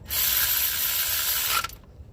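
A ratchet wrench tightening bolts on a cooling fan pulley bracket, a single fast continuous run of clicking lasting about a second and a half, close and loud, then an abrupt stop.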